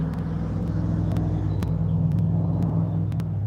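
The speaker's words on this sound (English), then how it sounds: "In his work truck." A neighbor's work truck drives past in a wooded morning setting, a low, steady engine rumble that stays fairly close throughout, with a few faint clicks or ticks over it.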